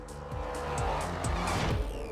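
A race car with a front splitter and rear wing presses its tires into the track, its engine roaring and revving with tire noise in a close, loud rush and no talking.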